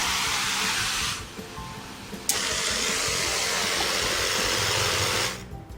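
A 12V pressure washer sprays water to rinse soap off a dirty bike: a steady hissing spray over a motor hum, easing off after about a second, then running on before cutting out near the end.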